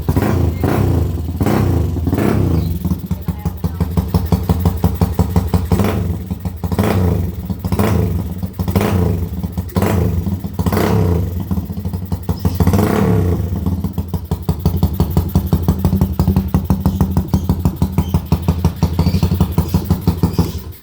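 A Honda TMX155 motorcycle fitted with a 210cc conversion engine and 6.5 cams runs loud and close, throbbing steadily with repeated sharp revs rising over its idle for about twenty seconds.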